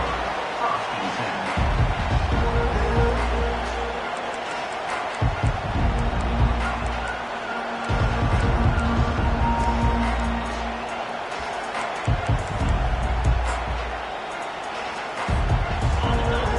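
Stadium crowd noise in a college football video game, LSU setting: a dense, loud, continuous roar of cheering that swells and dips throughout, with a commentator talking over it.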